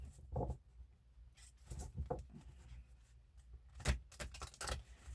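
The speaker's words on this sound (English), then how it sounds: "that wasn't a very good shuffle." Playing cards shuffled by hand in a quiet room, a few short riffling and rubbing bursts separated by pauses, moderately close and soft, with no talk over them.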